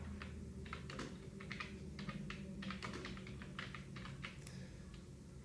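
Fingers type on a computer keyboard while entering data into an Excel sheet, a quiet, close run of irregular key clicks in quick bursts over a low background hum.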